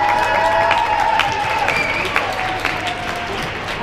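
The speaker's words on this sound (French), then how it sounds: "On peut applaudir ça." A crowd applauds and cheers at a roller derby match in a French N2 championship game, a dense, loud and continuous wash of clapping that fades slightly toward the end.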